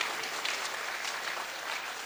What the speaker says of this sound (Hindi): ताली बजाने में आपका समय नष्ट हो रहा है